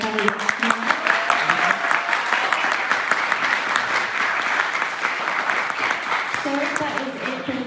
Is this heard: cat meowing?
no